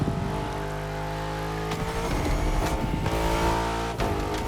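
A Mercedes AMG GT63 engine in The Crew Motorfest drones loudly and continuously, its pitch rising and falling with throttle and gear changes.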